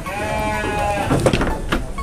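A large ram bleats close and loud, a single drawn-out call with a wavering tone, followed by a rougher, broken bleat, with no talk over it.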